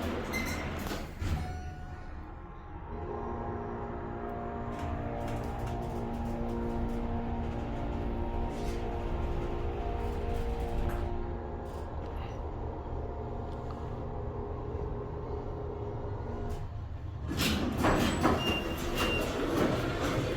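A Schindler 300A hydraulic elevator motor at a Las Vegas shopping mall drones in a steady, loud hum with a sustained pitch, starting after a brief clunk and stopping abruptly near the end, followed by a rattle.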